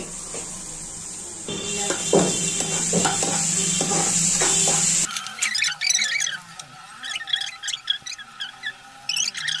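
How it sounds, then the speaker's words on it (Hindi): Green chili, garlic and ginger sizzle and crackle in hot mustard oil, with stirring and clinks of a utensil against the pan partway through. "इसमें गया हरी मिर्च लहसुन अदरक और इसे अब हम भुनेंगे"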